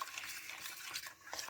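Eggs and milk are whisked in a bowl, a soft, quiet swishing with a few light taps of the whisk against the sides.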